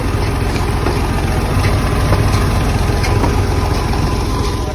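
A tractor engine running a tubewell pump drones loud and steady at idle close by, a constant low rumble with no talk over it.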